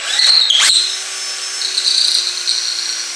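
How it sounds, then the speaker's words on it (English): A power drill with a 1/2 inch bit bores through a piece of wood for a table extension, a close whining motor that surges, then settles into a steady high drone. "I would take a 1/2 inch drill bit, the same drill bit I used to do this one, and make a hole going all the way through this piece."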